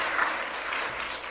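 Applause from a church congregation welcoming visiting guests during a Sunday service, a steady, even patter of many hands clapping close by, with no voices over it.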